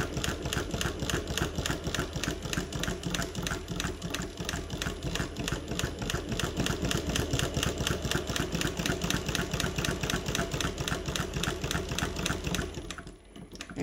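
A Mauzer chain stitch embroidery machine runs steadily, laying down a fast, even train of rhythmic mechanical stitching clatter close up, then stops abruptly near the end.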